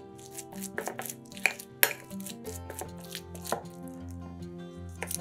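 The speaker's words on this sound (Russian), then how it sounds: "Лист салата разрезаем на небольшие треугольнички." A knife cuts a lettuce leaf into small triangles on a board, giving a series of quick, irregular chopping taps close up over soft background music.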